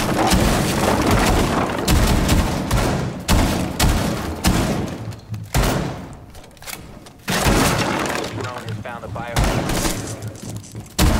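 DMR rifle gunfire in Rainbow Six Siege, loud, dense bursts of shots with crashing, breaking impacts, interrupted by brief quieter gaps and then resuming.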